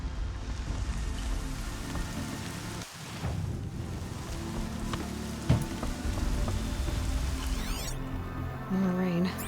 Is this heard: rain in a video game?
yes